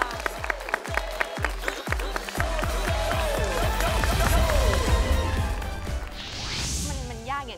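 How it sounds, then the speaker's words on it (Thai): A television talk-show studio audience breaks into applause, opening with a few sharp, spaced claps that swell into dense, sustained clapping before fading, with music or a voice briefly underneath. "ท่านผู้ชมครับขอเสียงปรบมือให้เธออีกครั้งครับ"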